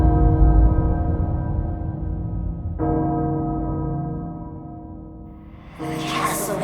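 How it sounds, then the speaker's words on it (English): A deep castle bell in the video game Resident Evil Village tolls with long ringing decay, one strike clearly renewing partway through, then a brighter swell of game sound joins near the end; no speech. "The castle bell heralds danger."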